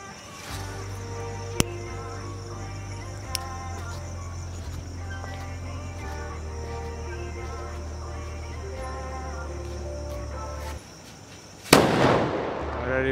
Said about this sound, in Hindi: अब मैं ये ऊन बम ट्राई करता हूँ, छोटा वाला सनशाइन वाला है